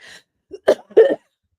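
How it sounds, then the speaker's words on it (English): A few sharp, close coughs in quick succession after a brief breathy rasp, loud and isolated with silence between bursts. "I feel like it's making my cough worse again"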